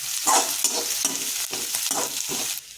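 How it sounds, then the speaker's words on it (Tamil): Onion and garlic sauté in a pan, a steady sizzle broken by several stirring scrapes and clinks at uneven intervals, close and fairly loud, with no voices. "வெங்காயம் நல்லா வணங்கி பூண்டு போட்டுக்கலாம் நல்லா வணக்கி விட்டுக்கலாம்"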